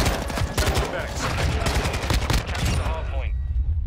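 Kastov 74u rifle firing in Call of Duty MW2: rapid, loud bursts of automatic fire that crack close by in a tight, steady rhythm, with game sounds around them.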